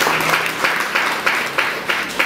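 A church congregation claps together in praise, a dense, steady wash of applause with regular surges, loud and close throughout with no talking over it.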